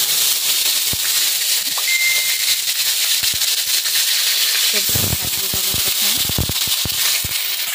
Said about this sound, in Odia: ଲୁଣ ହଳଦୀ ପକାଇକି କୋବିକୁ ଭାଜି ଦେବା।